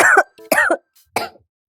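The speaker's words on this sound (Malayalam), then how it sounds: "ചുമ, വില്ലൻ ചുമ," Three harsh, chesty coughs come in uneven bursts, close and fairly loud, with short silent gaps between them.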